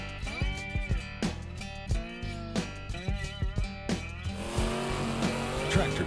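Multi-engine limited pro stock pulling tractors with turbos and superchargers, around 10,000 horsepower, roar continuously at a Greenville, Ohio pull, engine notes rising and dropping in repeated surges, loud and close with a harsher, noisier stretch near the end.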